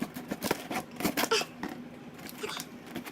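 Dull scissors hack at a cardboard package box, giving rough, scraping snips and crinkling rustles in an uneven, struggling rhythm, close up.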